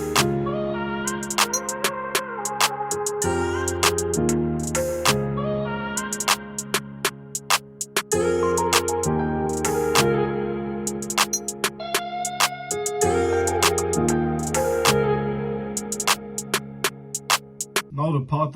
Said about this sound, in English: I added perks, open hats and a crash. Together they sound like this.